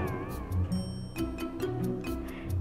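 Cheshire Cat in Kingdom Hearts's Wonderland meows several times in drawn-out, wavering cries, loud and close against a light game soundscape.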